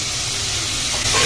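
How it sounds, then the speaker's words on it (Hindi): Tomatoes dropped into a pan of browned frying onions give a steady, loud hissing sizzle that holds evenly, close up and uninterrupted. "प्याज भून चुका था और अब इसमें टमाटर डाल दिया है।"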